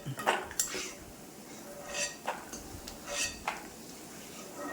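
Metal ladle scooping roasted peanuts out of hot oil in a pan gives several light clinks and scrapes against the vessel over a soft background hiss, close and fairly quiet.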